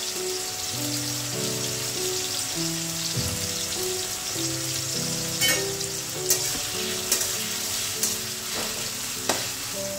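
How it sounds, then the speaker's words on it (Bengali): Potatoes sizzle steadily in hot oil as the first of several vegetables are fried one after another, a continuous close crackle with occasional sharper pops and a faint tonal background beneath, and no talking. "তো একে একে কিন্তু আমি সব ভাজাগুলো করে নেব।"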